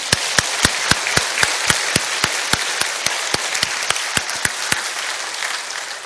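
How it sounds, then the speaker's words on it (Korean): A church congregation claps in a steady, rhythmic unison beat, sharp evenly spaced claps over a bed of scattered applause, loud and close throughout with no talking. "박수로 영광을 돌리겠습니다"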